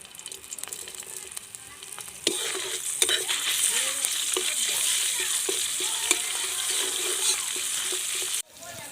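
Ginger and chopped green chili frying in hot oil as a filling for stuffed pointed gourd, a steady close sizzle with stirring scrapes, louder after a couple of seconds and cutting off near the end.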